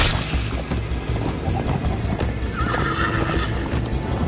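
A horse in the Minecraft Story Mode video game gallops with steady clip-clop hooves and lets out a whinnying neigh, busy and loud throughout, with game music and effects layered beneath.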